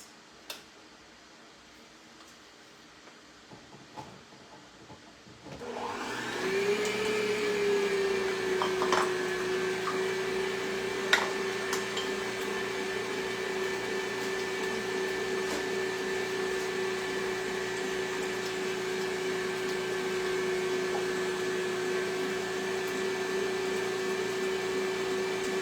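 An electric mixer beats eggs for flourless bread, switching on after a few quiet seconds and then holding a steady, close whirring hum with faint ticks and clicks running under it.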